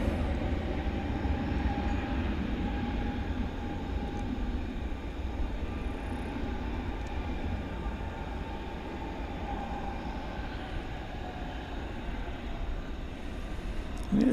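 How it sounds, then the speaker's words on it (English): A UPS Boeing 767 freighter takes off at night at DFW Airport after a long takeoff roll, a steady distant jet rumble that holds for the whole stretch without voices. "It's had a longer rollout than the other 767s we've seen tonight."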